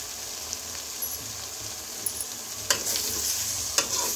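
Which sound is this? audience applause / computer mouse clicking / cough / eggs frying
eggs frying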